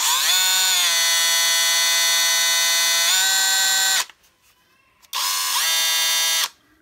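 A Parkside Performance 12V cordless drill driver (Lidl PBSPA 12 A1) spinning with a loud, steady high-pitched motor whine for about four seconds, then stopping briefly before a second shorter run, nearby and without talk.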